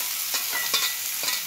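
Boiled cluster bean pieces with curry leaves are stirred in a frying pan, giving soft repeated scraping strokes over a quiet, steady sizzle heard close up, with no voices.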